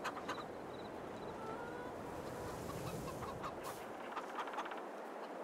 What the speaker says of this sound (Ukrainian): Качки голодні, кури голодні.